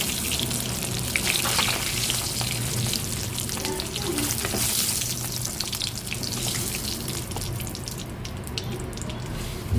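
An egg fries in a hot pan, its continuous crackling sizzle mixed with wet, spattering bursts, steady and fairly close throughout.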